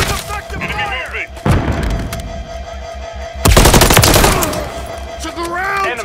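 Automatic weapons fire in Call of Duty Modern Warfare 3 multiplayer Domination, loud rapid bursts with heavy thumping impacts and a dense volley near the end, while voices shout over the combat.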